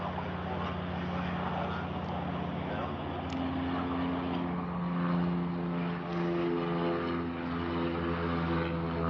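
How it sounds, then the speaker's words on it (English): A Beechcraft King Air propeller plane taxis at an airport, a steady droning hum with sustained tonal whine that swells slightly midway, heard from some distance. "There's that King Air taxiing in."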